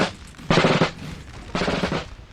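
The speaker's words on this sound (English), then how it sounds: "So that basic infantry be now firing, trying to inflict some damage." Two rolling volleys of musket fire from basic infantry in the Napoleon Total War video game, Battle of Saorgio 1793, each a loud crackling burst of many overlapping shots lasting about a third of a second, separated by a brief lull.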